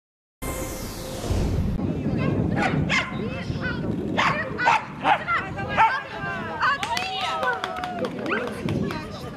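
Dogs bark and yip at an agility championship, sharp repeated barks over a busy crowd and announcer-style voices, with other dogs whimpering in the background of a loud indoor hall.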